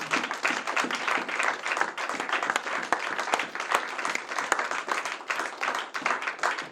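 A church congregation at a Sunday service applauds, a dense, lively patter of many hands clapping at close range for several seconds, with no talking.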